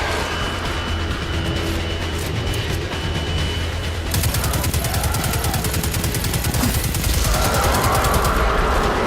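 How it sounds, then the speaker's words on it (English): Rapid automatic gunfire in the video game Destiny 2, dense continuous bursts of shots close up and loud, growing heavier partway through, with layered booms and combat noise and no talking. "I'll just begin by shooting."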